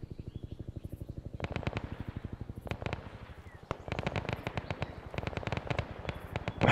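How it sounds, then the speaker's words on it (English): Mortar strikes and gunfire crackle through a Vietnam War video game, dense rapid bursts of sharp cracks and booms layered over a continuous rattling pulse, moderately loud with no talking. "They're going to walk right into that mortar strike."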